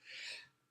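A single sneeze from someone sniffling with allergies, a short breathy burst that peaks quickly and fades within a second, close and fairly soft with no talk.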